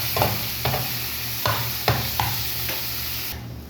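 Onions and green chillies fry in a pan with a steady sizzle, broken by about six sharp scrapes of a spatula at a regular pace. No one speaks, and the frying cuts off abruptly at the end.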